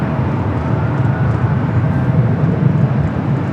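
An ITA Airways Airbus A350-900 arriving from Rome at Los Angeles, a steady low jet roar rumbling continuously at moderate distance, with no talk.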